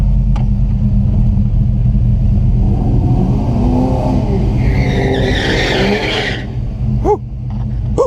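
Drag race between an LT1 V8-swapped Chevrolet S10 mini truck and a Camaro: a loud, steady engine roar fills the scene, rising with a squealing, whining sweep before easing off at the end.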